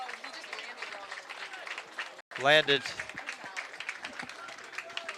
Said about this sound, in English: he gets some applause here from a very great soccer audience at Raymond Field